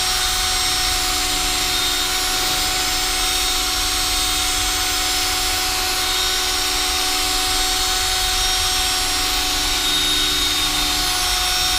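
Foam-pad polisher buffing a new super hard clear coat, held flat on the panel, giving a steady, loud whirring drone that holds constant throughout with no talk.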